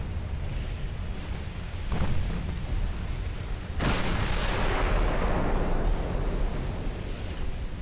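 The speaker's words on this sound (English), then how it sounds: "We still have 2 turrets firing." Naval turret guns fire in Ultimate Admiral Dreadnoughts, a 1910 British fleet battle: two heavy booming salvos about two seconds apart, each rolling out over a steady wash of sea and engine rumble.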